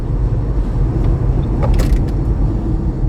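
An MG4 electric hatchback accelerates hard, giving a steady, loud road and motor rumble from inside the cabin with a faint rising whine and no one speaking.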